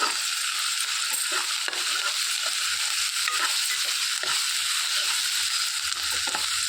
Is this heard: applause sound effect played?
no